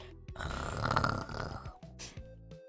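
Characters snoring in a Garry's Mod Five Nights at Freddy's game, several rough, grunting snore breaths in sequence, fairly close and moderately loud.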